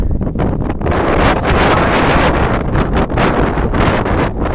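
Strong wind roaring across an exposed ridge of Slavkovsky Stit in Slovakia, buffeting the microphone in loud continuous gusts with no voices.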